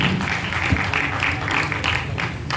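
An audience applauds for Ruby Rajput at an RCM gathering, a steady dense wash of many hands clapping throughout, moderately loud and fairly even, with no clear talk over it.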